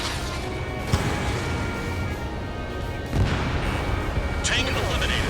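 A missile explosion destroys a tank in the video game Ace Combat 7, heavy booms landing around one and three seconds over a dense, loud roar of engine and battle noise.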